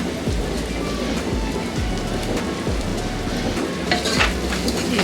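Grated coconut sizzles with softened tomato in a hot pan, a dense steady crackle and spatter with occasional stirring scrapes, close and continuous.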